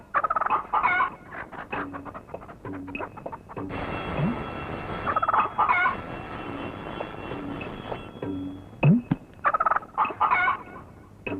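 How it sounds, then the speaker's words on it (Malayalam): Chickens cluck in repeated bursts, fairly close and clear, with a brief rattling commotion in the middle and no talk over them. "ഓ, കോഴിയാണല്ലേ?"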